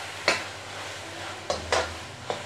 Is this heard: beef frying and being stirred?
yes